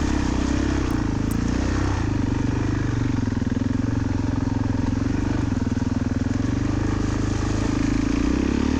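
A 22-year-old Suzuki DR-Z dirt bike engine running continuously at a steady idle at a cross-country race, loud and close, with a slight rise in revs near the end.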